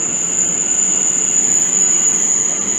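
A train pulling away from Harlington station after a very quick stop gives a steady, loud rumbling roar with a sustained high-pitched whine running throughout, heard close by and with no voices.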